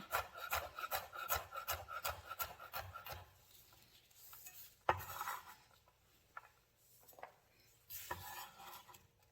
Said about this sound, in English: Just rough chop that.